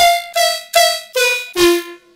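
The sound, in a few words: weird synth lead sound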